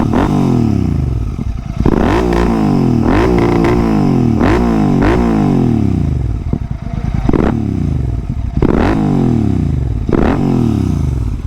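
A GT 650 motorcycle revving loudly and close, with repeated rising throttle blips, each falling back in a rumbling exhaust note with some mechanical clatter between revs.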